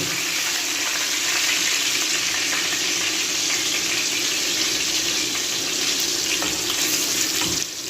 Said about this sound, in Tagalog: at luto na yung ating piniprito